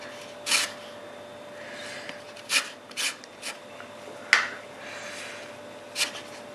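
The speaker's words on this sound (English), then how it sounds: "Just gonna need a little bit of lemon zest." Lemon being zested on a grater, a series of short, quiet rasping strokes spaced irregularly, about seven scrapes with soft near silence between them.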